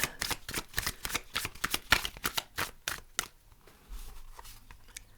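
An oracle card deck being shuffled by hand, with quick bursts of riffling and slapping cards in a steady rhythm that grows softer and sparser toward the end, close and alone.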